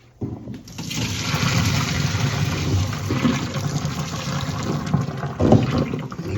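Liquid poured off boiled meat in a home kitchen for Thanksgiving dressing broth, a steady close splashing gush running several seconds with a brief louder surge near the end.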